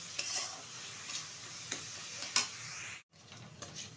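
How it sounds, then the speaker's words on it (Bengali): Grated coconut is stirred continuously in a pan on low heat, with soft scraping strokes and a faint background sizzle, close and quiet, with a brief silent break near the end. "লো আছে একটু অনবরত নেড়ে নেড়ে পাক দিয়ে নিচ্ছে"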